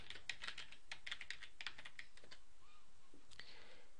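A user ID and password are entered on a computer keyboard in a quick burst of light key clicks that thin out into a few scattered taps, close and quiet.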